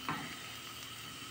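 Chopped leeks sautéing in a pan, giving a steady, close hiss of sizzling with one brief soft knock at the start; no talking.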